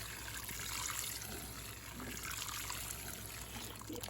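Water poured from a watering pot onto sprouted potatoes planted in a garden during a hot heat wave, a steady close trickle and splash running continuously with no talking.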